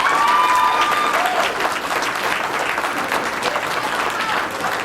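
An audience claps at a college roommate game show at Erskine College, a lukewarm, steady patter of hands lasting several seconds, with a brief high tone at the start.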